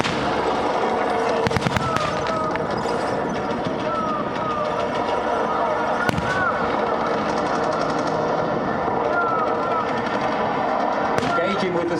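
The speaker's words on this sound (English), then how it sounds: "has called in not only an artillery barrage" An artillery barrage in a Tankfest battle display, heard as a dense, continuous clatter of distant blasts and gunfire, with a few sharper loud cracks standing out above the sustained outdoor din.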